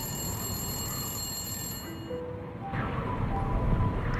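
A phone rings faintly from upstairs in a quiet house, a repeating electronic ring tone heard at a distance over low rumbling background noise.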